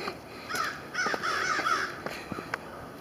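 A flock of crows caws repeatedly overhead outdoors in daytime, harsh calls overlapping at moderate distance over faint background noise.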